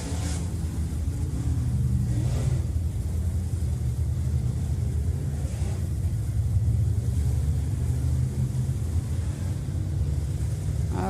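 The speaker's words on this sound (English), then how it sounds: "These cars are going to get ripping on their hot lap session." Dirt late model race cars run hot laps at Deer Creek Speedway, a steady, loud engine roar with rising and falling revs over continuous rumble.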